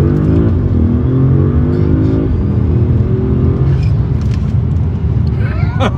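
An Audi S7 accelerates hard, its engine note rising in pitch through the gears with a brief shift break, loud and close, followed by lingering road and wind rush.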